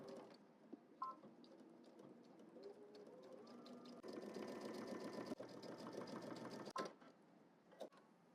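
A sewing machine stitches along a basting line on a double-breasted jacket in quiet, continuous runs punctuated by clicks and brief changes in speed.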